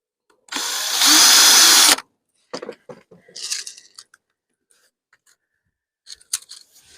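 A drill briefly bores a small hole into boat upholstery, one loud, steady whir of about a second and a half, followed by quiet scattered handling taps and clicks.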